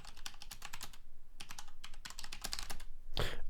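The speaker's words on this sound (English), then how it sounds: "I'm typing too much" Rapid typing on a computer keyboard, close and fairly quiet, with bursts of clicking keystrokes separated by short pauses and one heavier key strike near the end.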